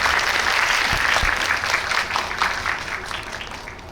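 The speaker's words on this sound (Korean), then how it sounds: "네, 박수로 맞이하겠습니다." Audience applause fills a Megabox COEX cinema hall during a film Q&A for Revolver, welcoming actress Jeon Do-yeon; dense, steady clapping from a full crowd that fades slightly toward the end.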